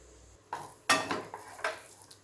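A spoon stirs and scrapes thickening milk for palkova in a metal pan, giving a few soft clinks and scrapes in a quiet kitchen.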